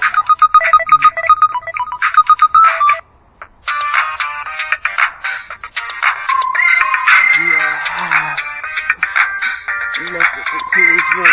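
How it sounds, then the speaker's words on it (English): A string of different phone ringtones plays one after another, bright electronic melodies and chiming tones with a short pause near three seconds, loud and close with no talking. "Listen to these ringtones."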